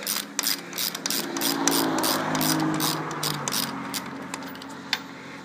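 A ratchet clicks rapidly and close by, loosening the bottom nut of a shock on a 1975 Honda CB750 cafe racer, with bursts of sharp metallic ticks and one louder knock near the end.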